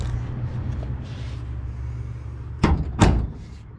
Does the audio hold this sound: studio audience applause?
no